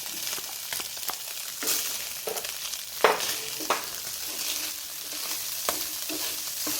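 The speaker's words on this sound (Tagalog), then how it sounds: "Igisa lang po natin siya ng kaunti." Hot dog slices are sautéed with ground meat in a pan for Filipino-style spaghetti, a steady sizzle punctuated by repeated scraping and clinking spatula strokes at an uneven pace, close up with no talking.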